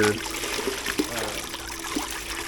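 Rocks being swished and washed in a bucket of water give a close, soft trickling and sloshing, with a few small knocks as they shift around.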